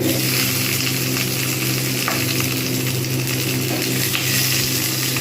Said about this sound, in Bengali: ডিমগুলো একটু লালচে করে ভেজে নেবো